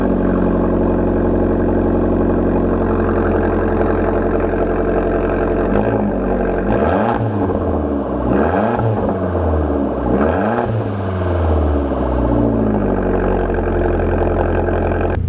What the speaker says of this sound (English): let's start the car up and move it outside